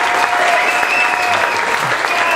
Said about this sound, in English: So please give a loud applause to our next speakers.